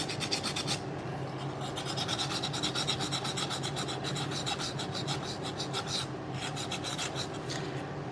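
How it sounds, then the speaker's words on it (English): A drill fitted with a heavy-grit sanding disc grinds against a Penn 8500 spinning reel, giving a steady, continuous rasping scrape with rapid rhythmic pulsing, close and fairly loud throughout with no talking. "Should probably use those sanding discs."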